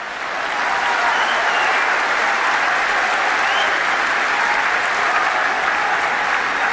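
A large audience at Zakir Naik's talk in Oman breaks into sustained, dense applause that swells quickly and holds steady and loud throughout.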